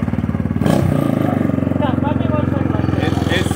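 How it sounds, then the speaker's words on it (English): A small motorcycle with a loud exhaust that needs welding idles and putters steadily close by, a brief rev near the start, while someone talks over it. "That bike sound like it's a big bike."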